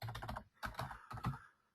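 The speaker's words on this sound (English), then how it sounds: "And so, I'll type in here." Computer keyboard typing in three short bursts of rapid clicking separated by brief pauses, close and fairly quiet, with no talking.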